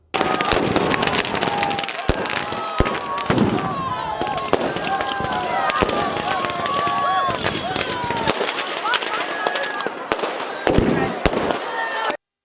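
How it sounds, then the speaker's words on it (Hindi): Firecrackers packed inside a burning Ravan effigy at a Rajasthan Dussehra celebration burst in a loud, dense, continuous barrage of crackles and sharp bangs for several seconds, with crowd noise faintly beneath. "रावण का पुतला खुद ही नीचे गिरने से उसमें पटाखे जलने लगे"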